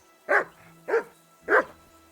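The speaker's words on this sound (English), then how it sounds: "That barking was a pain in the ass." Dog barking in the video game Kingdom Come Deliverance II, three evenly spaced, loud barks close by against a quiet background.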